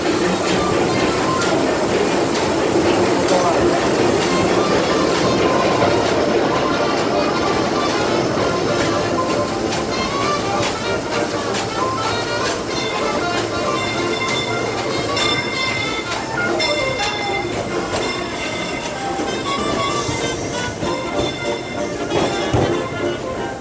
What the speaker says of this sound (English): we ask that you please remain seated until the train comes to a full and complete stop